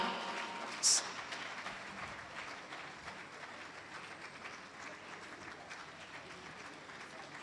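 Audience applause at an economic summit event, a faint, distant spread of clapping that continues steadily throughout, with a brief louder burst near the start.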